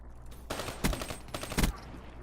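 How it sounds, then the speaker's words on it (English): Two bursts of automatic fire from the XR2 gun during a video game weapon test, each a rapid cluster of shots about a second apart, loud over a steady low background with no talk. "we will test the performance of this gun with this sight"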